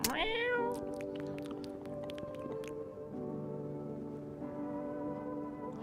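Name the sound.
cat meowing after being fed, from a video game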